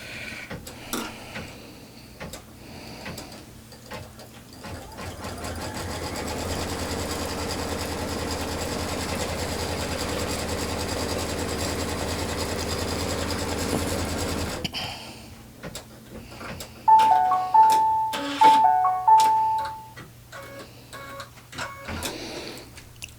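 Sewing machine stitching fabric for a fabric basket, a steady mechanical whir lasting about ten seconds, followed by clicks and short handling noises.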